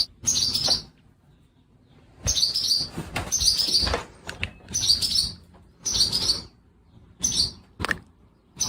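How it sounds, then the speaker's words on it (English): Small birds chirp inside an old stable, giving bright, close calls in short clusters with quiet gaps between them, and no voices. "Looks like the birds have been hanging out in here, too."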